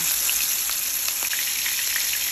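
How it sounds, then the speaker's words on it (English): Oil sizzles and crackles loudly and steadily as lobster fries close by in oil on medium heat, with scattered pops. "We are frying the lobster for 2 to 3 minutes"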